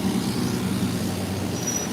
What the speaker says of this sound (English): These loud cars are my biggest ops.